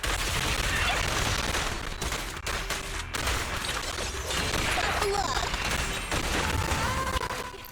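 Rapid gunfire from the action game Zenless Zone Zero, continuous bursts and volleys layered with combat effects and impacts over most of the stretch, loud and close, with game music and voice lines underneath.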